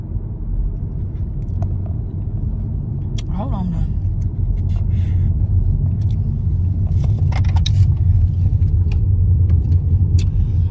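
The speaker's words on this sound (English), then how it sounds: "sorry y'all, I'm driving." Steady low rumble of road and engine noise inside a moving car, loud and continuous, with a person talking over it and a few brief scrapes and clicks.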